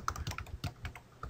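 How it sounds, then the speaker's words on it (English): Typing on a computer keyboard while searching for Device Manager on a Windows computer: a quick, close run of light, uneven key clicks with no talk. "I'll hit the Windows key and type device"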